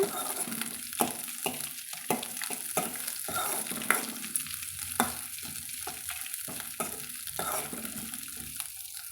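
Cabbage sautés in a pan under a soft, constant sizzle, broken by repeated clicking spatula strokes at an uneven rhythm, close by.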